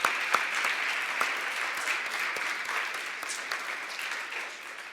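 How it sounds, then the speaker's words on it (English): Studio audience at a CFO of the Year awards show applauds the finalists, a thin, moderately quiet patter of clapping with a few sharper individual claps standing out. "let's give a big round of applause to all the finalists in the small private company category"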